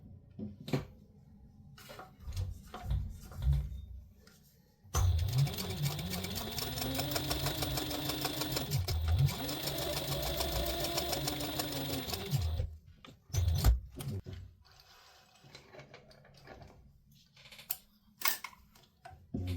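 Sewing machine stitching a straight 1/8-inch seam across a folded fabric wallet with card slots, a steady mechanical whir running about eight seconds with a brief pause mid-seam, framed by quieter handling clicks before and after.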